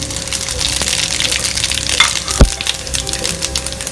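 Curry leaves and cumin seeds sizzle and crackle steadily in hot oil for a kadhi tempering, with a sharp pop near the middle and no talking.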